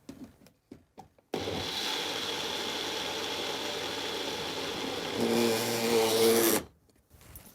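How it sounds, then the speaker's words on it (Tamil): An electric mixer grinder whirs loudly as it grinds soaked urad dal with green chilies into vadai batter, starting abruptly after a few soft knocks, holding a steady roar, rising slightly in pitch, then cutting off near the end. "பச்சை மிளகா சேர்த்து நான் அரைச்சிக்க போகிறேன்."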